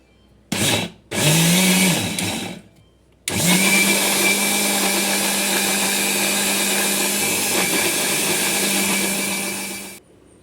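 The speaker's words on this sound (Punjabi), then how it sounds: "ਪਾਣੀ ਪਾ ਕੇ ਹੁਣ ਆਪਾਂ ਇਹਨੂੰ ਅੱਛੀ ਤਰ੍ਹਾਂ ਪੀਸ ਲਾਂਗੇ" An electric grinder whirs loudly as it grinds soaked mung dal with water, starting in two short bursts before settling into one steady, continuous high-pitched motor drone that cuts off abruptly at the end.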